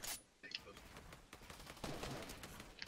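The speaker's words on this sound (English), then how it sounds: "Oh, they started shooting me." Rapid gunfire from the video game Fortnite crackles in bursts of repeated shots, moderately loud, with players' voices talking over the action.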